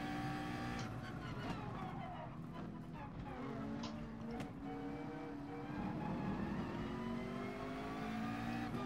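A Ferrari LaFerrari race car in Gran Turismo racing, its engine note droning and shifting pitch steadily throughout alongside other cars, with a commentator talking over it.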